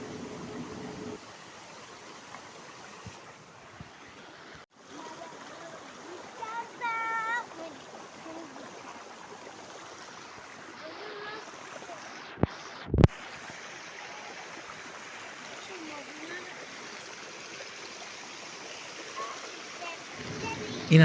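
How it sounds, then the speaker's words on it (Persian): A waterfall in the Mazandaran countryside of Iran gives a steady, broad rushing roar of falling water, fairly faint and constant, with brief bumps and handling noises over it. "و بالاخره آبشار"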